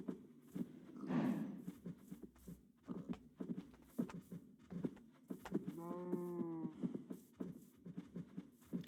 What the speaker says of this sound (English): Ooh, there's a donkey over there, too.